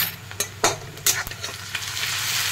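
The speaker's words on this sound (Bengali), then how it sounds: "আরও কিছুক্ষণ ভেজে নেব।" Onion with ginger-garlic paste fries in a pan, a close sizzle broken by a few sharp scraping stir strokes early on, then settling into steady frying hiss.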